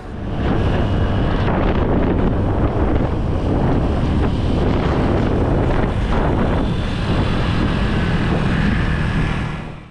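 Loud, constant wind roar buffets a GoPro Hero 12 Black camera mounted on a moving motorcycle, filling the whole stretch as a steady rumbling rush with no talk.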